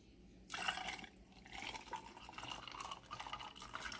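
Homemade Guyanese mauby drink being poured into a container, a quiet start then a sudden splashing liquid stream that keeps running with gurgling, uneven bursts, close by with no talk.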